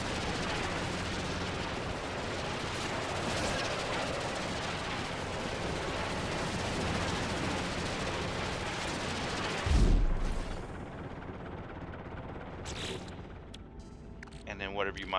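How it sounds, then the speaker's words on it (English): A vehicle's cannon fires in the No Man's Sky space game, a single heavy low boom breaking through a steady roaring drone about two-thirds of the way in. "It also has a cannon and a mining laser."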